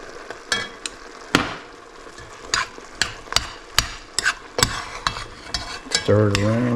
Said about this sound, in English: Stir it around there.